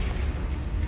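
Confringo fire spell exploding in Hogwarts Legacy, a brief, loud, low rumbling blast with a dense roar that fills the whole moment without any break.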